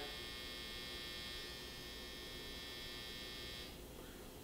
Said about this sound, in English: That was the dryer.